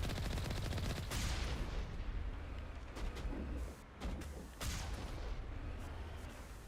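Gunfire in the video game Mass Effect as Geth enemies are destroyed, a dense, continuous roar of shots and blasts with a few sharp bursts and short dips, loud and without talking.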